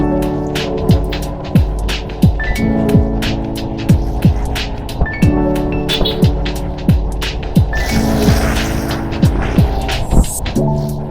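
A motorcycle rides through traffic, its engine droning loud and close with a pitch that rises and drops repeatedly, accompanied by sharp periodic ticks and clatter.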